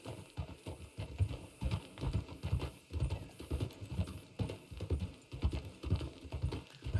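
Horses clip-clop through a town in the Red Dead Redemption video game, a steady run of hoof knocks close by, layered and overlapping, with no talk.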